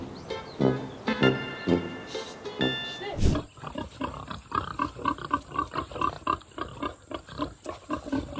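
A pig on a farm grunts and squeals in a run of loud, close, rough bursts, first with voices talking and then in rapid snorting grunts that continue to the end.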